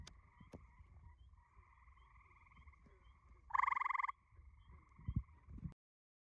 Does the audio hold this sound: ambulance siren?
no